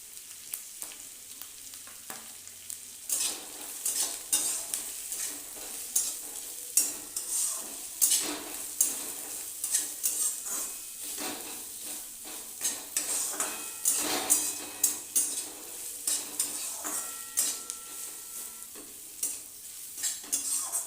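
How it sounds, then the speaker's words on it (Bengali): Onions fry in a pan for a chicken and potato curry, a soft continuous sizzle punctuated by frequent scraping and clinking of a spoon against the pan, close and steady with no voices. "পেঁয়াজটা প্রায় ভাজা হয়ে এসছে"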